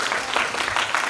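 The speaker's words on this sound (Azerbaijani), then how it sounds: "Bir daha alqışlayırıq olacaq" A room of training participants claps in a short, dense burst of applause, fairly loud and even throughout with no break.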